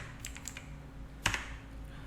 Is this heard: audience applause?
no